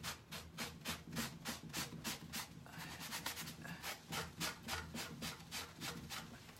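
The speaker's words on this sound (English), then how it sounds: "and I just sand" A sanding block is rubbed by hand across an old pine chest in quick, even back-and-forth strokes, a steady rasping rhythm that stays fairly quiet and close.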